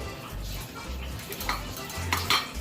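A utensil scrapes and clinks against a pan as paneer is mashed into tomato curry, a continuous close clatter with a few sharper metallic knocks near the end.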